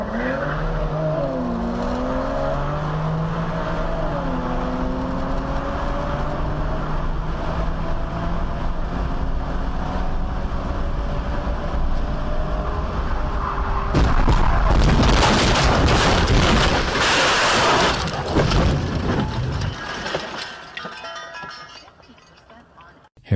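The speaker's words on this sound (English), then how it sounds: "This next footage shows how street racing can go terribly wrong." A street-racing car roars with rising and falling engine revs, then a loud crash bursts in with heavy crunching impact and debris noise before fading out.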